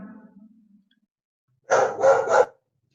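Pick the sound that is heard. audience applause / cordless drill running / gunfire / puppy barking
puppy barking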